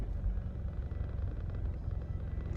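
A big truck rolls past close by, its heavy low rumble steady and loud throughout with no talk over it.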